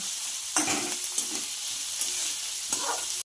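Chopped onion sizzles steadily in a pan over high gas, a close, continuous frying hiss broken by a few scraping stirs, with no talking.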